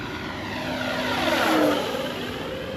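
A FlightLine Corsair RC model warbird makes a full-throttle pass. Its propeller whine rises as it approaches, peaks with a clear Doppler sweep mid-pass, then eases off as it moves away.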